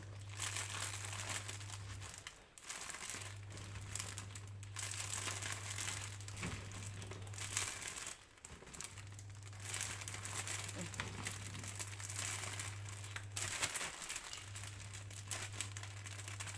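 Thin plastic food bags crinkle and rustle up close while chillies are packed, a steady crackling texture broken by brief pauses, with a low electrical hum running underneath.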